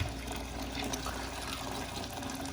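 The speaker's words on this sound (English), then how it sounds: "Okay, so our water has come to a boil. So this is going to be the second fill up that we're doing." Freshly boiled water poured into a container holding doll hair, a steady continuous splashing gush filling the vessel, close and constant throughout.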